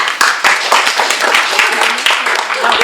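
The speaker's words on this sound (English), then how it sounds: "Let's please give a warm round of applause." Audience applause at a book event for the graphic novel Bingo Love, a dense burst of many hands clapping close and loud, steady throughout with no voices over it.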